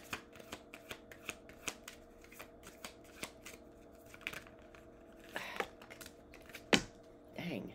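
Tarot cards being shuffled close by, with a run of crisp light riffles and taps at an uneven rhythm and a louder flurry near the end, while a voice speaks intermittently.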